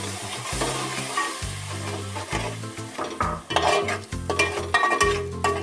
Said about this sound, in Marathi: आता आपण याच्यात टमाटा पेस्ट घालून घेऊ।